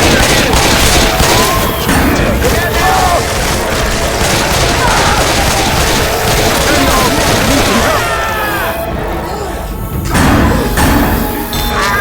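Rapid automatic sniper rifle fire in Left 4 Dead 2 versus mode, loud repeated shots and thuds mixed with in-game chaos, with players talking throughout.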